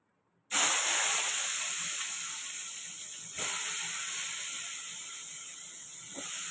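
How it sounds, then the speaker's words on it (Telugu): Brinjals cooking in a pan for a curry, a sudden loud hiss of steam that starts abruptly and slowly fades, with a second surge partway through, close and without talk. "వంకాయలు మగ్గుతున్నాయి"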